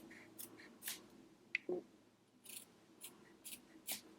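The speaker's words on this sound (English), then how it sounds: "you want to trim close to the stitching line" Scissors snip through denim seam allowances close to the stitching on tiny doll clothes, several quiet, crisp cuts in an irregular rhythm with faint handling rustles between them.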